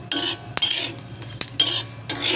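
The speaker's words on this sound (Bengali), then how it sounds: "তিলটা যতক্ষণ এইভাবে পুটপুট করে উঠবে ততক্ষণ পর্যন্ত ভাজতে হবে।" Sesame seeds dry-roast in an iron wok. Close, rhythmic scraping bursts from stirring repeat about four times, and a couple of sharp, isolated pops or clicks stand out between them, with no talking.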